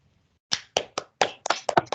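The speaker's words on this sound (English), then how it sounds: "give a round of applause" Scattered hand claps from a small online group after a presentation, a handful of sharp separate claps starting after a brief silence and coming in an uneven rhythm, close and fairly clear.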